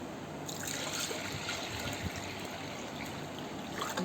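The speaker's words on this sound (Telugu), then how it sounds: "వాటర్ పోసి నీట్గా రెండుసార్లు మూడు సార్లు క్లీన్గా కడుక్కుంటాను నీట్గా పప్పుని" Water trickling and sloshing softly as dal lentils are rinsed two or three times, a faint, steady wash of liquid with no voices.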